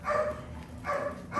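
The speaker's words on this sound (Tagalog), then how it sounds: "Ang ingay ng aso." Nearby dog gives about three quick barks in close succession, moderately loud and with no speech.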